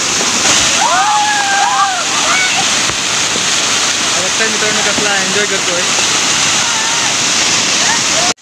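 A loud, steady waterfall at Chandranagar, Dapoli, in Konkan roars throughout, with people talking and calling out over the rushing water.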